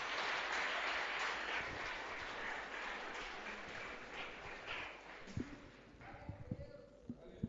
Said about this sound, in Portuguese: Palmas para o Rei Senhor.